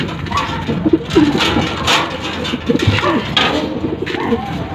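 A racing pigeon coos as it returns to its loft after training, low soft repeated coos close by with scattered fluttering and background rustle, and someone speaks now and then.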